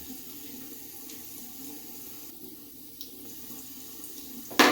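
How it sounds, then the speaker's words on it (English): A bathroom tap runs steadily into the sink to rinse a face after a wet shave with a Merkur MK-23C closed comb safety razor, a smooth, continuous splash that fills the whole stretch at moderate volume. "Rinse off."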